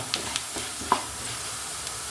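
A steady soft sizzle of frying in a hot pan, with a few light clicks and taps of stirring over it.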